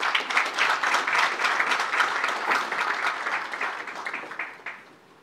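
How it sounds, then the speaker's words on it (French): An audience of deputies and senators at a formal assembly applauds warmly, a dense burst of many hands clapping that holds steady for several seconds before tapering off at the end. "Sous vos applaudissements, s'il vous plaît."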